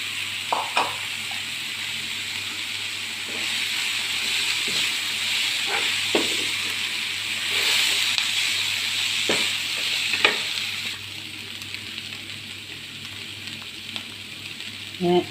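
Crushed chicken frying in a pan for a jackfruit chicken roll, a continuous close sizzle and hiss broken by repeated sharp stirring scrapes, with no talk.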